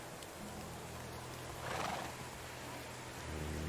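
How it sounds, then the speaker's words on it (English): Horses in the medieval survival game Medieval Dynasty whinny once in a loud, drawn-out neigh midway through, over a steady ambient game background with no speech. "Wow, horses."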